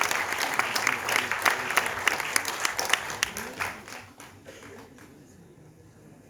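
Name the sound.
audience applause as poet comes on stage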